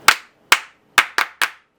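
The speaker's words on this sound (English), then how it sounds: "Clap handy for grandma." Five sharp, distinct hand claps ring out at an uneven pace, close and loud, as a small group claps for a grandmother during a casual question-and-answer tea session.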